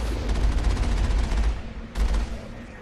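Rapid automatic gunfire in the video game Mass Effect as turrets are shot down, two fast rattling bursts with a brief pause between them, loud and close.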